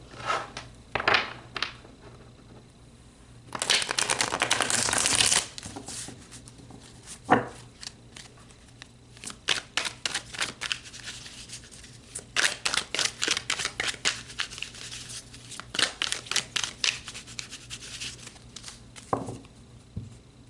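Tarot cards are shuffled and pulled in a repeating pattern of crisp riffling bursts and quick flicking snaps, close and fairly loud, with short pauses between the flurries and no voice over them.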